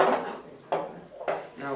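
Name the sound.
scooping meringue into a piping bag with a spatula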